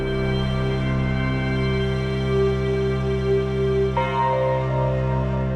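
Music from the Resident Evil 2 video game in the police station: sustained, layered tones forming a dark gothic-horror drone, steady and mid-loud, with a new chord entering partway through.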